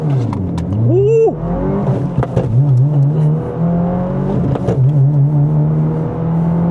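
Subaru WRX engine held at about 4000 RPM for a launch, rising in a quick rev and then pulling hard through a shift with a steady drone, close and loud inside the car.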